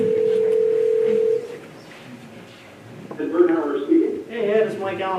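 A steady telephone tone sounds over a speakerphone at a school board of education meeting, holding evenly for over a second before cutting off; after a quiet pause, voices begin talking.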